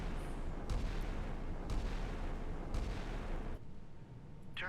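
Warship guns fire in the naval combat game Sea Power, with about three heavy booms at roughly one-second intervals over a constant low rumble, fairly faint overall.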